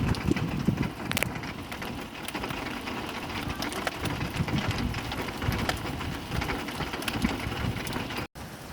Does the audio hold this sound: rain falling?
yes